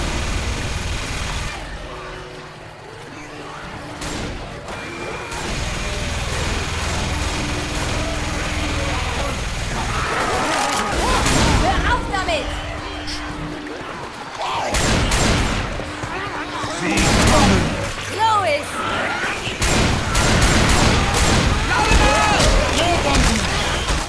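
Bursts of Left 4 Dead 2 gunfire crack out repeatedly over a rumbling engine-like drone, mixed with game voices and chatter.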